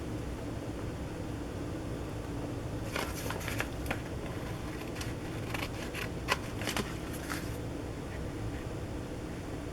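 Scissors trim paper overhanging the edge of a page in a small glue book, giving a cluster of quick, crisp snips and rustles in the middle of the clip over a steady background hiss, with no speech.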